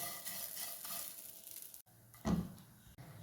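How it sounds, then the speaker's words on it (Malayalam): Grated coconut and flattened rice roasting in ghee with sesame seeds give a soft, low sizzle and stirring scrape nearby, briefly dropping out midway before a short louder scrape. "തേങ്ങയും കൂടി നമ്മുടെ ഈ അവിലിൻ്റെ ഒപ്പം കിടന്ന് നെയ്യും എള്ളും ഒക്കെ കൂടി ഒന്ന് മൂത്ത് വരട്ടെ കേട്ടോ."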